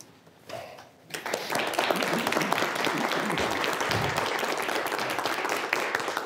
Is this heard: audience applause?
yes